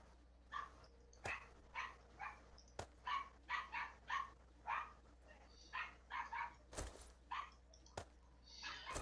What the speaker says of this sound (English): Well, that dog is certainly telling somebody off